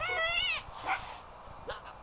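Dogs in the video game Little Kitty Big City give a run of high whining yelps, then a few short barks and yips over a steady game background, close and moderately loud.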